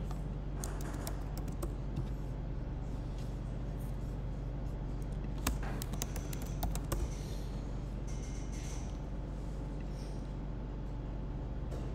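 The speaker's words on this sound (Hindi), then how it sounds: "मेरे ख्याल है हाथ से टाइप करना पड़ेगा इसका URL हमें" Someone types a website URL on a computer keyboard, producing faint, scattered clicks in short bursts over a steady low hum of room noise.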